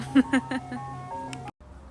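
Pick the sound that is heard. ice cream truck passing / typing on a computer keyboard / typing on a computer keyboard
ice cream truck passing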